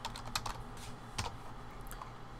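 Soft, quiet typing on a computer keyboard, a quick run of light key clicks in an irregular rhythm over a faint background hum.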